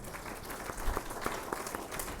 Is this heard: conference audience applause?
yes